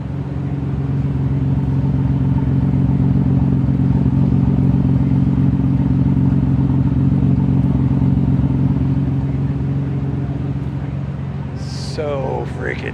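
A Nissan RB26 twin-turbo engine with Tomei Poncam Type B cams and a 3-inch exhaust idles loudly and steadily with a lumpy, throbbing rumble, close and sustained, with a brief voice near the end.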